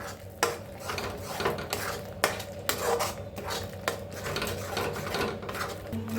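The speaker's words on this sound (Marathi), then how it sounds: "आता छान असं भाजून घेऊया सगळं मसाला" Masala roasted with besan in a pan for an egg curry, heard as steady scraping and rubbing of a utensil against the metal with repeated clinks, close and continuous throughout.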